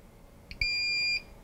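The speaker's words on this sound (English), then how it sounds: "Okay, so it got close to temp, so it beeped at us." A Prusa 3D printer gives one clear electronic beep of about half a second as it nears temperature, close by over faint background noise.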